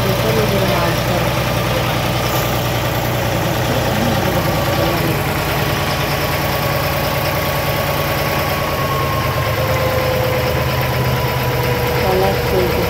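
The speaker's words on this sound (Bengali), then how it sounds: "ট্রলার চলতেছে, নিজের গতিতে চলছি আমরা।" A fishing trawler's engine runs at sea with a loud, steady, throbbing drone and rhythmic knocking that continues unchanged throughout, while voices talk faintly under the noise.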